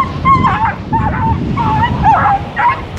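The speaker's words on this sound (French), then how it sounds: "Oula, regardez ça, petite réunion de chiens." A group of dogs, apparently roaming outdoors, yips, whimpers and barks in overlapping bursts for several seconds, close and loud over a faint background of wind or surf.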